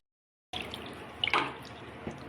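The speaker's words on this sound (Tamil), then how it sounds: "தண்ணியில் நல்லா அழைச்சி எடுத்து வச்சுப்போம்" Cleaned food pieces are rinsed in water in a home kitchen: running, splashing water begins abruptly after a short silence, with a brief louder slosh midway as the pieces are swished about.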